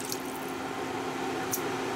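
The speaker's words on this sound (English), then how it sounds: "I'm going to put in 2 cups of water." Two cups of water pour into a pot of cooked ground beef and onions for a mock stroganoff, a soft, steady splashing trickle heard close and fairly quiet, alone.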